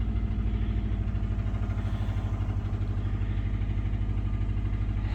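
An old car engine idles steadily with a rough, rhythmic clacking tick running through its low rumble, loud and close throughout with no speech.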